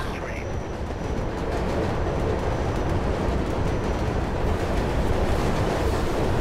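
Train ride in the Mirror's Edge video game, a steady loud rumble of rolling rail noise filling the whole stretch without letup.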